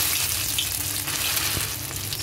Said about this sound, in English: fry our minced fish first. So heat your wok.